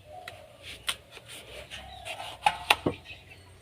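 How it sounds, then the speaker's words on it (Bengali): A knife cuts through a raw papaya in a kitchen with a few sharp, uneven chops and scrapes, the loudest near the end, over a quiet background with faint bird calls. "আমি পেঁপেটা কেটে নিচ্ছি।"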